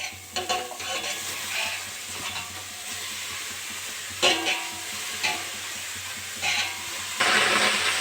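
Shredded cabbage sizzles in a hot wok with a steady frying hiss, broken by sharp surges each time the pan is stirred. No one speaks.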